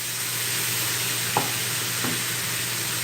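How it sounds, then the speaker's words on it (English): Ground beef and onions sauté in a pan with a steady, even sizzle throughout, broken by a couple of faint stirring scrapes, close up and without talking. "we're just going to be sauteing this until the meat is fully cooked and the onions are nice and"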